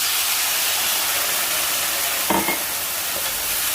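Stir-fry sauce hits a hot pan of green beans and sizzles loudly, a dense, steady hiss filling the whole stretch with a brief clatter of stirring near the end, close and unaccompanied by speech.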